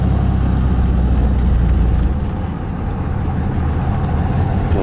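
24V Cummins diesel truck engine under load, a loud, steady low rumble that dips briefly and then builds again as the turbo spools, heard close from inside the cab with no talk.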